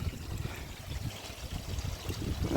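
Water trickles steadily from a Bakki shower filter down into a koi pond, a soft continuous splashing babble heard close by with no voices.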